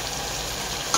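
Tomatoes hitting a hot, sizzling pan while a fish curry cooks, a steady close frying hiss with a brief sharper crackle at the end.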